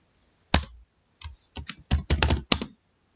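Clicks on a laptop to start a drive scan come as sharp, loud, close taps, first a single one, then a quick uneven cluster in near silence.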